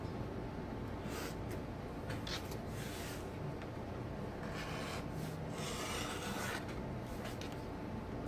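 A beveling tool run along the edge of a costume piece for a Medusa costume, giving faint, repeated scraping rasps in slow strokes over a low steady background hiss.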